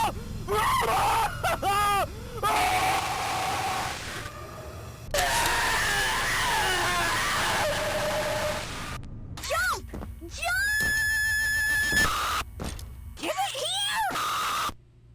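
Smiling Critters in Poppy Playtime Chapter 3 scream in agonizing pain, a string of loud, strained cries, gasps and groans in short bursts with gaps, over a low droning game background.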